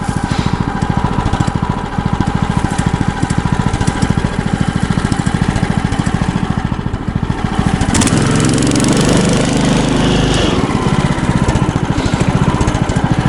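An Albatros HLV9 motorized towing sled sits stuck in deep loose snow with its small engine running loud and close, a steady rapid chugging throb that rises in intensity partway through, with no talk over it.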